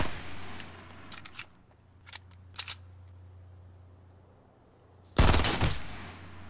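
Fortnite gunfire: a few short, sharp shots crack over a low background hum, then a loud, dense burst of rapid fire closes the clip.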